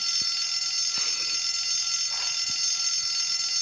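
A fire alarm rings in the video game Bully, a steady high electronic tone held throughout with a few faint clicks underneath.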